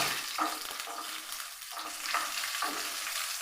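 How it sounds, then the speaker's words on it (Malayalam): Shallots sauté in a hot pan for a fish curry, a steady close sizzle broken by a few distinct scraping stirs of a spatula, with no talking. "ഉള്ളി ഒന്ന് വഴണ്ട് വരുന്ന വരെ ഒന്ന് വഴക്കിയിടും"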